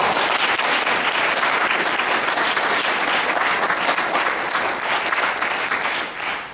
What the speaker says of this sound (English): I'd like to have a round of applause for Dr.